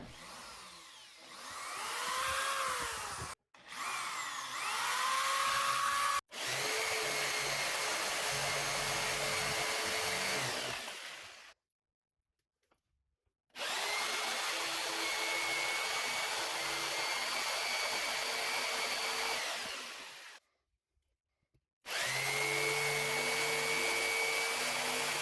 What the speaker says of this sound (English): Next, I'll be cutting out the rectangle hole for my light switch for my Tron joystick.